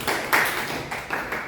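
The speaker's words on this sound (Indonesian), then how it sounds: "tepuk tangan untuk kalian semua" Brief bursts of students clapping in a classroom, a few uneven rounds of hand claps close by over about a second and a half.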